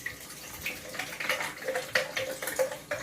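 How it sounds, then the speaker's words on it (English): Purified water poured into a new, inexpensive countertop blender jar, a faint, close splashing trickle with small irregular bursts over a few seconds, no talking. "I'm going to pour in some water."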